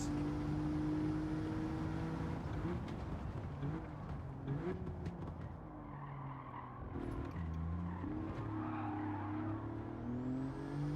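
A race car in Gran Turismo 7 roars through gear changes, its engine note climbing and dropping in steady stepped pitches, with tires squealing as it slides mid-run and a continuous loud, close engine drone throughout.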